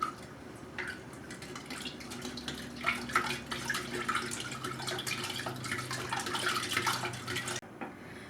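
Wild strawberry tea lemonade with lemon juice and sugar is stirred in a container, giving light liquid swirls, drips and soft clinks close by, moderately quiet, ending abruptly.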